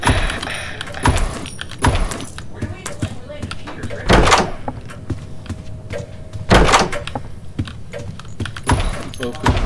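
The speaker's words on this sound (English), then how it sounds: "Open the door, get in here." A door in the video game Doors is handled with several sharp knocks, creaks and jangling clatters, loud and close, while people talk between the hits.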